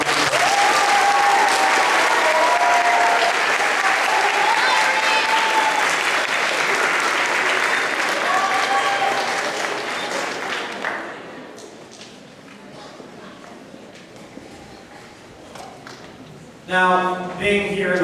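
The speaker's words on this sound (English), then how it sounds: "Round of applause." Audience applause at an eighth-grade spring choir concert, a full room clapping steadily and loudly for about ten seconds before thinning out to scattered claps, with a voice speaking briefly at the end.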